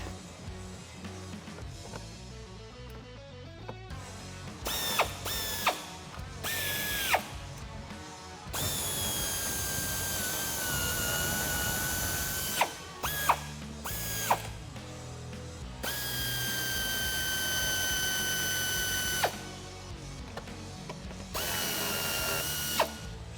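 Ratchet tool removing 10mm fender bolts on a Jeep Wrangler JK, heard up close in repeated loud whirring runs separated by short pauses and clicks.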